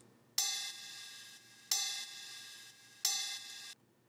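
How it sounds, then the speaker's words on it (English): A ride cymbal sample from an electronic future-style track, played alone: three evenly spaced metallic pings, each with a bright bell-like attack and a long shimmering sustain. "The next sound I have is my ride, and alone it sounds like this."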